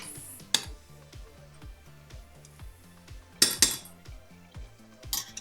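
A spoon stirs grapes cooking down in a pot for jam, giving sparse, fairly quiet clinks and scrapes against the metal at irregular intervals over a soft background.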